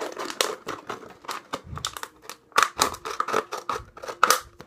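Scissors snip along the side of material being shaped for a homemade mouse trap. Repeated close, crisp cuts mixed with crinkling and rustling handling noise.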